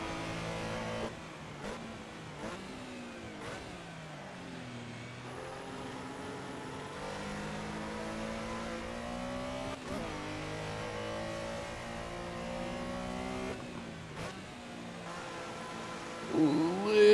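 Porsche Carrera RSR 3.0 in the Assetto Corsa racing sim at Barcelona, its engine droning steadily and shifting pitch through gear changes as it corners, with a few sharp clicks and a louder rise at the end.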